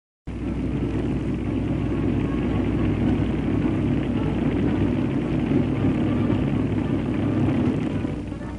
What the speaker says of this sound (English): Number 883 was a Corsair, Boyington's gull-wing job